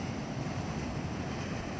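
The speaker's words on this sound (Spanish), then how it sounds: "Y las olas ya están más o menos, bueno, aquí se ve más fuerte." Ocean surf breaking steadily along the shore at Honolulu, Hawaii, a continuous broad roar of rolling waves with wind buffeting the microphone, no voices.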